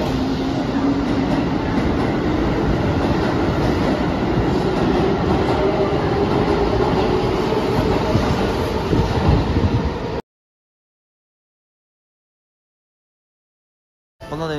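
A Keihan Electric Railway train runs with loud, steady rumbling and rhythmic wheel clatter and a rising whine, continuous and close, then the sound cuts out into silence before briefly returning.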